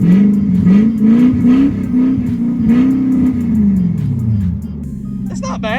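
A V8 car with a welded differential revs with a steady, throaty low drone that rises and falls over several seconds, close and loud, with voices talking over it before it eases off.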